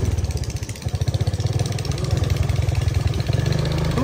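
A motorcycle rides along a dusty village road in a remote river-island area of Bangladesh, its engine throbbing in a steady, loud, close pulse that runs continuously with slight surges.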